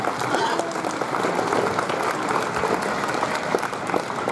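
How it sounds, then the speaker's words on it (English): Audience applause fills the arena at a 4-H livestock show, a steady wash of clapping from many hands lasting throughout, with some crowd murmur mixed in. "why don't we give them a big round of applause"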